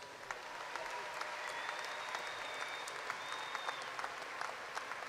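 A large audience applauds graduates at a university spring commencement ceremony, with sustained, fairly distant clapping spread evenly throughout and a faint tonal whistle or squeal sounding above it.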